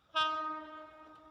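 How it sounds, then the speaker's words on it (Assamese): A light locomotive running without coaches, near a railway tunnel, sounds a single sustained horn blast that starts abruptly, stays loud and tonal, and fades slightly over about a second. "হয়, ইঞ্জিন আহিছে, সুদা ইঞ্জিন"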